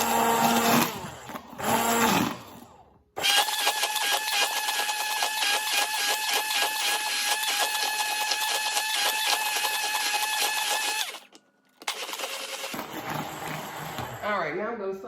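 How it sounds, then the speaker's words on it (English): A blender whirs on high speed through vegan mayo ingredients, a steady loud motor roar that runs for about eight seconds before cutting off and restarting, with a voice speaking briefly before it starts. "then we're going to go ahead and blend on high"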